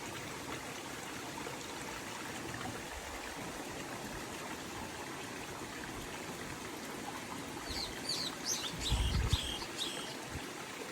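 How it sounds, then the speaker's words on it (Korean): Water flowing steadily at a garden pond with a continuous close trickle and rush, bird chirps rising faintly toward the end over the water. "물 소리도 들리네요"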